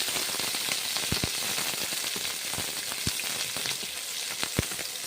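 Onion, green chilli and whole cumin fry in mustard oil with a steady crackling sizzle, broken by a few sharp spatters and clicks, with no talking.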